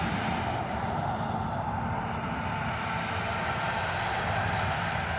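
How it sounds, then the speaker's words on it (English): A John Deere 5280 combine harvester's engine runs steadily during harvest season, a constant broad rumble and drone with no talk, holding level throughout. "The John Deere 5280 combine. This time, here he goes."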